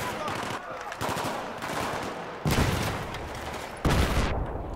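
Sustained automatic gunfire in a Battlefield 3 combat level, loud, dense bursts of rapid shots with brief gaps and sharp new volleys, no talking over it.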